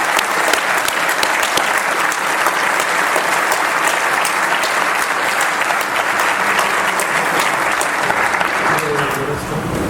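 Sustained audience applause at an awards luncheon for police award recipients, steady dense clapping throughout with faint voices underneath.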